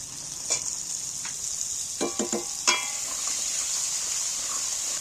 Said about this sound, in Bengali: এবার ক্যাপসিকাম লঙ্কা আর কাঁচা লঙ্কা দুটোকে একসঙ্গে তুলে দিচ্ছি